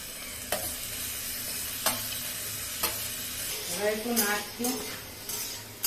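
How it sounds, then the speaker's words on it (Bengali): Drumstick stems frying with onions are stirred in a pan, with sharp scraping strokes every second or so over a constant sizzle, and a voice talks briefly midway. "এবার মা একটু নাড়ছে, একটু বেশ 1-2 মিনিট নাড়া হবে"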